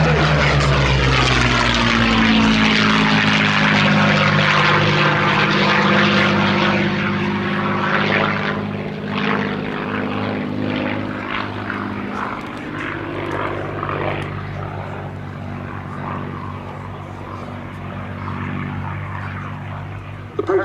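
A Curtiss P-40F Warhawk and a Hawk 75 fly at the Duxford Battle of Britain Airshow 2021, their piston engines and propellers roaring loudly nearby. The sound sweeps through a Doppler pass and then drones on steadily as the aircraft move away.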